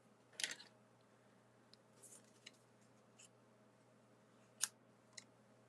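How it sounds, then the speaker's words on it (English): Paper is fussy cut with scissors in a quiet room, giving a few isolated, sharp snips spaced seconds apart, faint and close, with a low steady hum underneath. "while I cut this out real quick"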